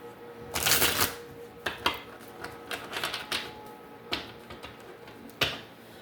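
Tarot cards are shuffled by hand in a quiet room: several brisk riffling bursts and scattered sharp card slaps and taps, close and fairly soft.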